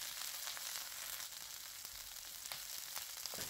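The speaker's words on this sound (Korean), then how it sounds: "그리고 이제부터는 아무것도 하지 마시고 한쪽 면을 4분 동안 구워주세요" Cod steak frying skin-side down in a hot coated frying pan, a steady close sizzle and crackle that carries on evenly with no talk.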